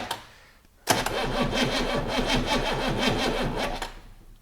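A 6.2 V8 diesel engine, left sitting for about twenty years, gives a short crank and then fires into a loud, rough, steady running rumble close by, with no talking.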